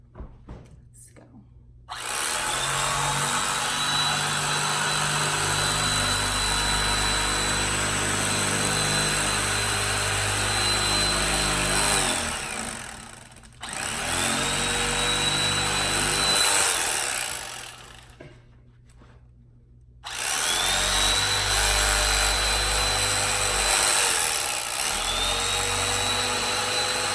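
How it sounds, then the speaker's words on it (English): A power tool cuts through foam in three long, loud, steady whining runs, each starting and stopping abruptly with short quiet gaps between them. "That's how you cut foam."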